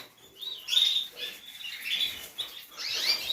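Canary chicks in a breeding cage give off faint, high-pitched twittering chirps in short, overlapping bursts, close by, with no voices.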